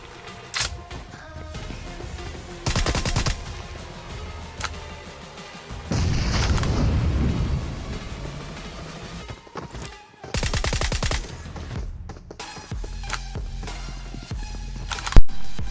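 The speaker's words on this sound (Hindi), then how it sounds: "और फिर आती है सामने से फायरिंग की साउंड।" Gunfire from the video game BGMI in a solo-versus-squad match, sharp loud shot bursts spaced across the clip, with scattered quieter game sounds between volleys.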